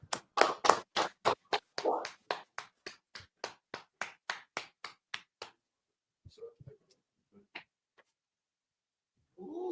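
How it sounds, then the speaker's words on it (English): A class audience claps in unison, a run of loud, evenly spaced claps that fade into a few scattered, softer ones, followed by a quiet stretch with faint stray sounds. "Clap it up."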